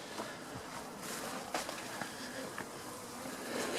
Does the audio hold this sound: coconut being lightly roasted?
no